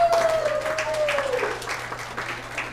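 A family church audience claps and cheers after a David and Goliath performance. The applause fades gradually, and someone whoops at the start of it.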